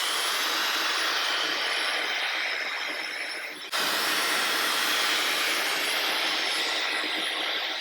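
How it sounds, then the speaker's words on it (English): A hair dryer blows steadily and loudly while the hair is brushed through with a Denman brush during a keratin protector treatment. The airflow roars close to the listener, with a brief dip midway. "I'm kind of hovering the dryer as well."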